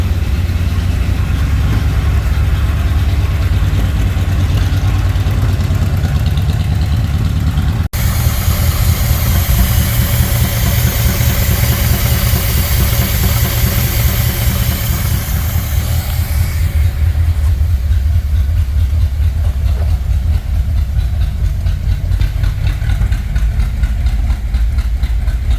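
A 1964 Ford Thunderbird engine idling under the hood, a steady low rumble that runs continuously and loud without clatter, with a brief hissy rise partway through.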